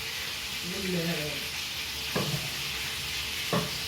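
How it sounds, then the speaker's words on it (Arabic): Chicken frying in hot oil in a pan, a constant soft sizzle running beneath stirring, with two sharp clinks of utensil against the pan and a brief tonal sound near the start. "الجهه الاخرى الدجاج يتقلى."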